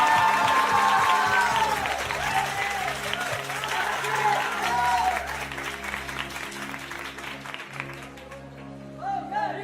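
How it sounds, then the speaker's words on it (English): Applause from the audience at a poker tournament final table in Barcelona, saluting the runner-up, loud and sustained across the clip before easing slightly toward the end, with some voices and crowd noise mixed in. "let's get a big round of applause for our runner-up, Lachazar Petkov."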